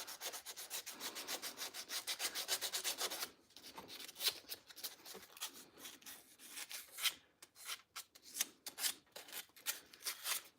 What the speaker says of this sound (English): it takes lots of sanding